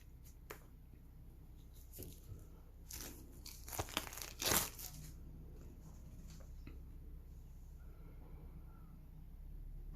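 A package of comic and game cards is opened by hand without cutting, with faint crinkles and a louder burst of tearing and rustling midway, then quiet handling, no voices.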